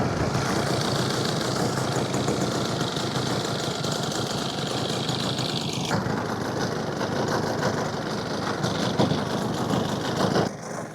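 A 120cc competition RC airplane engine idles and warms up close by, a loud steady buzzing drone holding constant throughout with a slight shift partway through.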